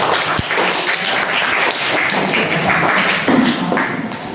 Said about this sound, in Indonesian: beri tepuk tangan untuk Rombi